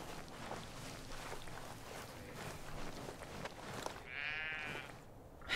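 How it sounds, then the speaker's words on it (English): Goats bleating in an open-world Ghost Recon game, several wavering bleats rising near the end over a dense outdoor ambience with faint footsteps. "The goats."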